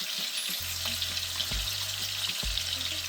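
Fish frying in a pot with seasoning for curry fish, a steady close sizzle with a few stirring clicks and scrapes and a low hum underneath, no talking.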